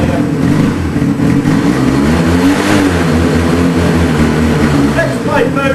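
A faulty engine in a workshop revs hard and stalls out around 5,000 rpm, a loud, sustained roar that climbs, wavers and holds without going higher, with voices talking over it.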